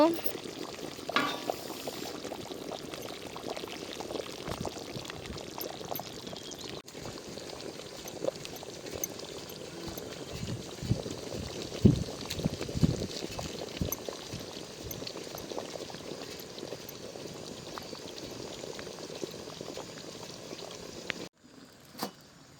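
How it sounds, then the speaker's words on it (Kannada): Mutton sambar boiling in a pot in a village-style kitchen, a steady low bubbling and simmering hiss that runs throughout at moderate level, with occasional small clinks and a brief drop near the end. "ಕುದೀತಿದೆ ಈಗ ಮಟನ್ ಸಾಂಬಾರು"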